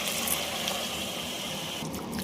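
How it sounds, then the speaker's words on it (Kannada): A steady, close stream of water pours into a pot of rice for jeera rice, filling it with a continuous gushing hiss that shifts slightly near the end. "ಒಂದು ಲೋಟ ಅಕ್ಕಿಗೆ 1 ಲೋಟ ನೀರು ಹಾಕ್ತಾಯಿದ್ದೀನಿ"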